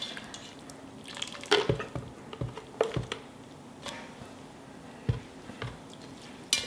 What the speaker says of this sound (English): I like to use a spider whisk, or spider strainer, I'm sorry, to get out most of the solids.